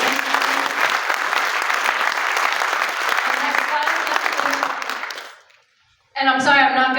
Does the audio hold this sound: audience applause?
yes